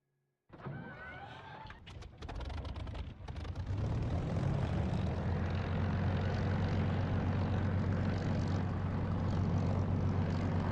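A Spitfire's engine in the DCS flight simulator starts with a few irregular mechanical clatters, then settles and throttles up into a steady, loud, deep droning roar held continuously for taxiing.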